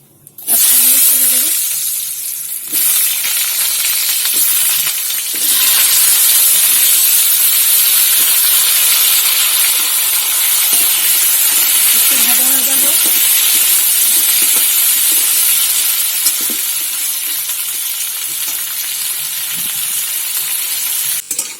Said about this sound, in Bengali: পেঁপে আলুটা আমার সুন্দর হালকা হালকা ভাজা হয়ে গেছে